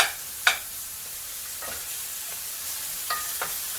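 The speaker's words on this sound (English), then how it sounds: "I'm going to render the fat off this bacon" Bacon renders in a small sauté pan with a quiet, steady sizzle, broken by a few sharp pops and crackles.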